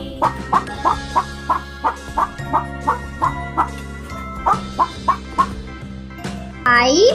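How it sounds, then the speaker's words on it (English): A cartoon hen clucks in a steady run of short bursts, about a dozen evenly spaced over several seconds with a brief pause, loud and clear over a light musical backing in a children's phonics rhyme. "H for hen."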